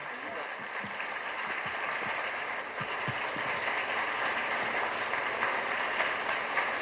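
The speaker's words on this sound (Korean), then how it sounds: "큰 박수 부탁드립니다." An audience at a Korea University Veritas Forum lecture breaks into steady applause that holds evenly for several seconds, with faint voices mixed in underneath.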